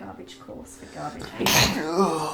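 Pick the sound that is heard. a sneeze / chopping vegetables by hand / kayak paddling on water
a sneeze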